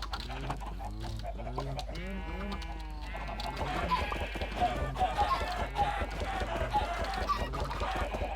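Minecraft farm animals crowded together, chickens clucking amid bleats and other livestock calls, a steady overlapping chorus of short repeated calls, fairly close and moderately loud throughout.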